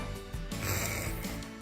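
A person imitates a pig with a short, close, rough snorting grunt that lasts under two seconds.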